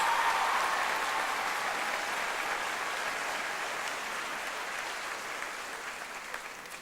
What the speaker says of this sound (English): A round of applause, please, for our special guests and dignitaries.